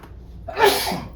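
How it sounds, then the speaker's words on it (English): A single loud human sneeze sounds close by in a home kitchen while chili is being seasoned, beginning with a short intake of breath and ending in a sharp burst. "It's not seasoned if you're not sneezing."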